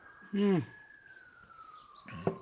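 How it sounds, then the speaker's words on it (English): Police sirens wail steadily and faintly in the distance, a long sustained tone that slowly falls in pitch, while a person speaks briefly over it. "with the sirens in the background"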